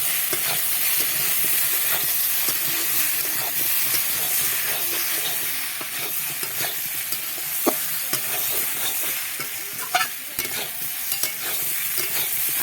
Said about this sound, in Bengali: এবার এটা দিয়ে একটু ভালো করে কষিয়ে নেব